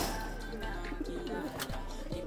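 A racing pigeon coos in a few soft, low, rolling notes close by, over a steady background hum.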